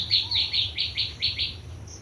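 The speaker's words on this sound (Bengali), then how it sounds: "প্রচুর পাখি সকালে আসে" A bird in a home garden in the morning repeats a quick, bright chirp about seven times in steady rhythm, close and clear over a low background hum.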